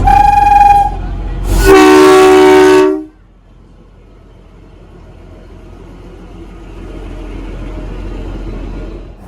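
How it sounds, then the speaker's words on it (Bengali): A Kalka–Shimla toy train horn sounds, then a second longer, louder blast, followed by the steady low rumble of the train rolling into Shimla station. "ট্রেন তখন আমাদের পৌঁছে দিল সিমলা স্টেশনে"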